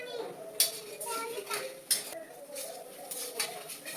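Turmeric stirred into fried ginger, garlic, coriander and green chilli paste in a pan, with a spoon scraping and clinking against the metal in a few sharp knocks over quiet background voices.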